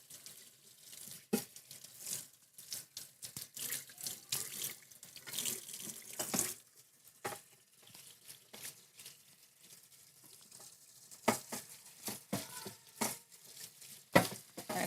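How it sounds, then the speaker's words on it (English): Water running from a kitchen tap into a sink while utensils are rinsed after making pork gyoza, with intermittent splashes, clatters and gurgles, fairly close and quiet, no talking. "I'm gonna go rinse everything off because I will not be using this."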